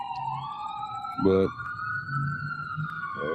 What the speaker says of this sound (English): All these sirens are coming.